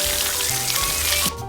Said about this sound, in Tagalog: Una, syempre, prito muna natin yung isda.